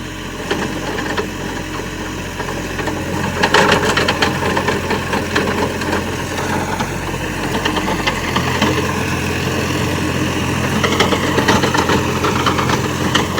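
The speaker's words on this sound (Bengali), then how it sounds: "তোর ক্রসে আওয়াজ হচ্ছে" A Massey Ferguson 254 DynaSmart 4WD tractor, stuck in deep mud, runs its engine with a noisy cross joint, making a loud, continuous close-up drone with a rattling, knocking texture and no voices.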